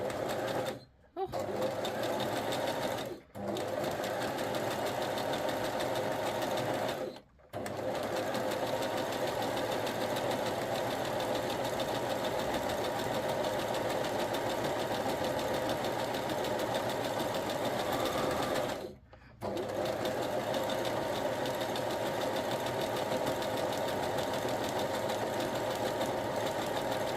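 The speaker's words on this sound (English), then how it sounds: "Actually hear it when it's skipping the stitches." A sewing machine runs steadily for long stretches, skipping stitches while stitching material and lace, its continuous motor hum and knocking needle rhythm broken by a few brief stops, close and loud with no talking over it.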